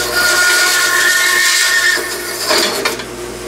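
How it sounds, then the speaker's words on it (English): A vertical bandsaw cutting round stock gives a loud, close, steady whine with strong tonal ringing, then breaks into rougher rattling and clatter toward the end as the blade grabs the piece. "I'll show you what happens when you try and cut a piece of round stock on a vertical bandsaw"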